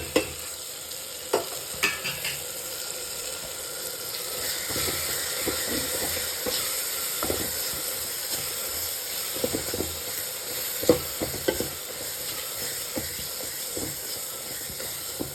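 Tomatoes with onion, green chili and other ingredients fry in a pan for sambar; a continuous sizzling hiss with scattered clicks and spoon knocks of stirring, no talking.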